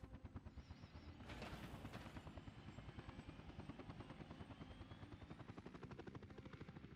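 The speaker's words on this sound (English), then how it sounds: "Comes the helicopter, guys." A helicopter in the Soviet city-building game Workers & Resources: Soviet Republic, its rotor chopping in a steady rapid rhythm and swelling in loudness partway through, with a brief whooshing burst layered over it.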